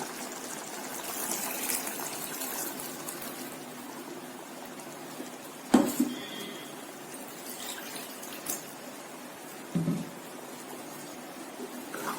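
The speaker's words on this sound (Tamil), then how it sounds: "ஜார் அலசி தண்ணி விட்டுக்கலாம்." Water pours and trickles steadily at low volume into a blender jar, with a couple of brief clunks and knocks.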